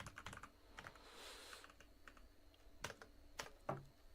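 Quiet, close keystrokes on a computer keyboard tap out in an irregular run of separate clicks, a few sharper presses standing out, with no talking.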